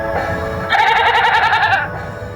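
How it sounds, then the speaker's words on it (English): A goat bleats in a long, wavering, nasal cry lasting about a second, loud and close, over a steady background hum. "Goat."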